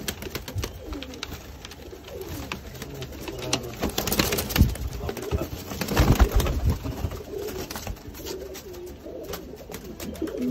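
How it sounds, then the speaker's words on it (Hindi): Sialkoti pigeons coo in a low, continuous murmur amid flapping and rustling, with a few louder bursts in the middle. "कबूतर आपके सामने है"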